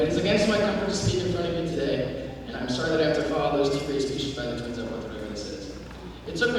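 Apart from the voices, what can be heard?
No everyday noise stands out behind the speech.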